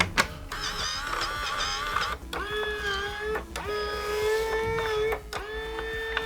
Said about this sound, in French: on rappuie sur le bouton Start et la machine est prête à l'emploi